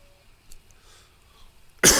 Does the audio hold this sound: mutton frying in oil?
no